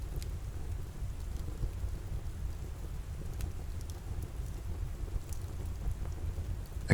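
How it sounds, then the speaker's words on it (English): Steady rain falling outside a cottage, a soft continuous patter with scattered drip ticks and a low rumble of distant thunder beneath, no voices. "Only the rain remains."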